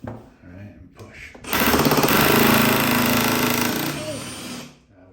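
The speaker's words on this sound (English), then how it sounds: "Because I'm drilling through wall." A power drill bores through a bathroom wall to hang a vanity mirror, a loud, sustained grinding whir lasting a few seconds, preceded by brief talk and tapering off at the end.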